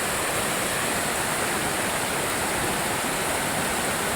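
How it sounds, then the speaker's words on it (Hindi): A swollen hill river in flood after heavy monsoon rain, rushing in a loud, unbroken roar of broadband water noise that fills the whole stretch, close by and steady, with no voices. "बहुत ही भयंकर नदी आ रखी है, पूरा रूप ही बदल दिया इसने"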